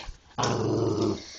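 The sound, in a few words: dogs growling while playing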